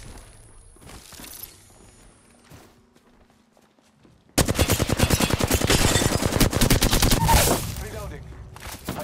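Rapid automatic gunfire in a video game, a loud close burst of dense shots beginning abruptly after a quieter stretch and continuing for several seconds before easing.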